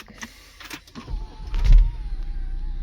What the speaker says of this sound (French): Et l'écran ressort.